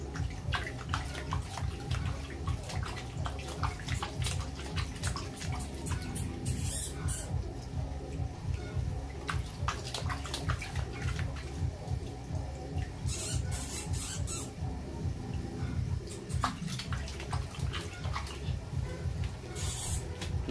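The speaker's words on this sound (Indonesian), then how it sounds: "Ya, kita cuci dulu ya teman-teman, biar kelihatan mengkilap dikit." A newly hatched Ambon turtle being washed: steady running water with splashing and patter, close and continuous, plus occasional small squeaky rubbing sounds.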